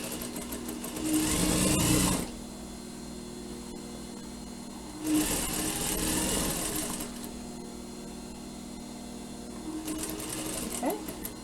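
A sewing machine stitches fabric for a reversible surgical cap, with two clear bursts of rapid, even stitching and a shorter run near the end. Quieter pauses fill the gaps between them.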